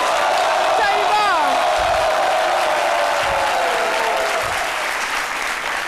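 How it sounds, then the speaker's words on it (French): A studio audience claps loudly and steadily on a French midday television show, with a few whoops and some voices and music underneath the ovation. "On applaudit très très fort pour Chantal Taïba."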